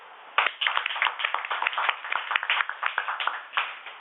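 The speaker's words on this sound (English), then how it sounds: "So, when we clap, this gives us a lot of motivation. Can I have one clap for myself?" Group of people clapping together in a workshop room, a dense run of hand claps starting about half a second in and carrying on steadily as sustained applause, fairly close and loud.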